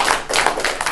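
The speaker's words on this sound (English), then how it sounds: "Come on, let's give her a round of applause" Short burst of hand clapping from a small group, close and loud, with quick uneven claps overlapping for under a second.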